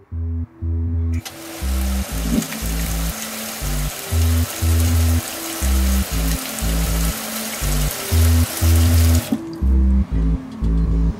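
Steady shower spray hissing in SAD RPG, loud and continuous for several seconds before cutting off abruptly, over a repeating low music loop.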